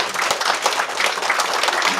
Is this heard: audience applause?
yes